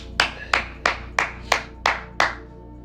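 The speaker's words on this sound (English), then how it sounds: "Clap it up." Seven sharp, loud hand claps land at an even, unhurried pace, each one crisp and close with a short ring after it.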